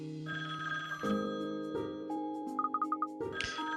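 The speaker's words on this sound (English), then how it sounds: "Oh, that's the phone. I will get it." In the 3DS game Layton's Mystery Journey, a phone gives a brief burst of rapid electronic rings, heard over steady in-game music and chimes.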